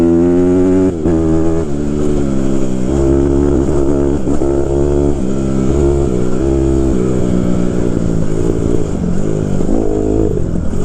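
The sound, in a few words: 2014 CRF 150R dirt bike being ridden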